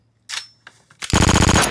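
A short burst of rapid gunfire follows a few scattered louder pops, the shots loud and close, arriving in a fast regular rattle that fills the end of the moment with no talking over it.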